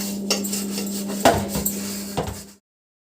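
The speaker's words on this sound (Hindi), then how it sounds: "तो दोस्तों मैंने बर्तन भी धो लिए हैं" Metal pots and dishes clatter and scrape as they are washed and handled, with a few sharp clinks and rubbing sounds close by before it cuts to silence.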